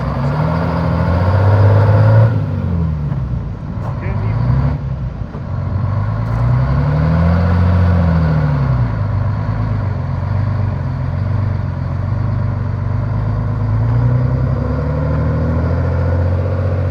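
The engine of a 1967 FWD 4x4 fire truck, long parked, runs loudly and steadily up close, its low rumble rising and falling with revs, with no talking.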